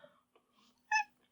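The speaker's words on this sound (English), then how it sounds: "You got a whining cat" A pet cat named Siggy lets out a short, clear whining meow near the end, close and fairly loud, after a few faint murmurs and rustles in a quiet room.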